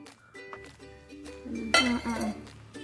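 A spoon clinks against a pan as gooseberries are stirred into melted jaggery, giving light metallic taps and scraping that swell louder midway through, with no talk.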